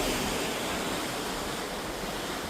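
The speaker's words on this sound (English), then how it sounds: "This is the ocean" Open Atlantic Ocean water rushing past a cruise ship, a steady, dense wash of wave and wind noise with no distinct breaks and no voices.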